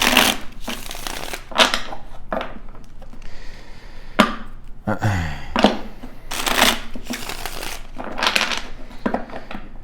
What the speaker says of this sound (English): Y'all gonna have to give me a minute to shuffle.